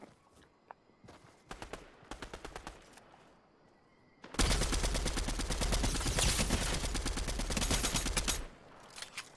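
Rapid automatic fire from a new weapon in a shooter video game, a few short bursts at first and then a long loud sustained stream of shots before it stops.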